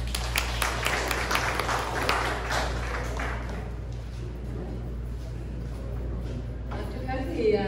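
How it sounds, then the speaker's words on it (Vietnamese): An audience at a Vietnamese community memorial ceremony in Houston claps for a community representative, with a fading patter of applause over a low steady hum. "Xin một tràng pháo tay cho chị"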